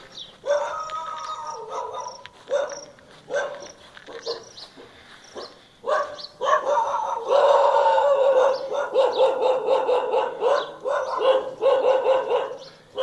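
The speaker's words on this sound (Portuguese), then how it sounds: "Os cachorros estão vindo mais perto agora." Several dogs bark repeatedly at a distance near a temple at Phnom Oudong, Cambodia, the barking building into a sustained chorus of overlapping barks with brief pauses.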